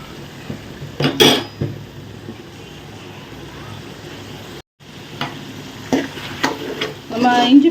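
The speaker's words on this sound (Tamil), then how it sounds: "வெங்காயம் பச்சை மிளகாய் இஞ்சி பூண்டு பேஸ்டெல்லாம் வதங்கி வரும்போது எண்ணெய் பாருங்கள் தானாகவே பிரிஞ்சு வருது" Onion, green chili and ginger-garlic paste sauté in oil in a pan, giving a steady low sizzle broken by clinks of a spoon against the pan, with a brief silent gap midway and louder scraping near the end.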